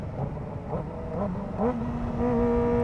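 Kawasaki Ninja ZX-4RR motorcycle engine, a 2024 model, revving at around 50 mph on the road, its pitch rising in several steps over steady wind rush, close and loud.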